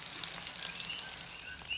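Banana blossom fritters made with egg, tuna and cornstarch fry alongside fish in hot oil, giving a steady, close hiss and crackle throughout.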